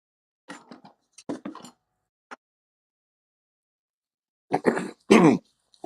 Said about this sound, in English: I called you into play because I had to cough my head off